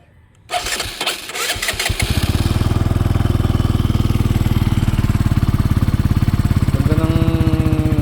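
A Benelli TNT 135 motorcycle with its stock exhaust cranks and catches, then settles into a steady, loud, close idle with a fast even pulse and a brief blip near the end.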